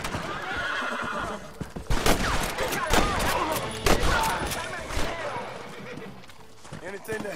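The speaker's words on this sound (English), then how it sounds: "Someone is shooting." Gunshots crack in a volley in Red Dead Redemption on PS3, several sharp reports ringing out amid horses whinnying and hooves clopping, with a voice talking in the game scene.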